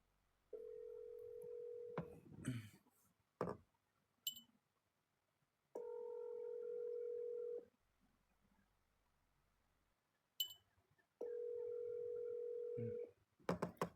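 An outgoing telephone call gives a ringback tone: three long, steady tones of about two seconds each, separated by long silent gaps broken by faint clicks and handling noises, heard quietly through a phone.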